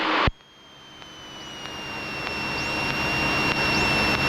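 A light aircraft engine drones steadily on landing approach, its pitch rising and falling slightly with throttle adjustments. The sound follows a sharp click and grows gradually louder under constant cockpit noise.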